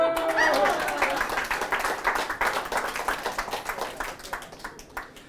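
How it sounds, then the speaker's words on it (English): An audience at a magic show applauds, with a dense burst of clapping that thins into quicker, fading individual claps toward the end. "You are going to clap."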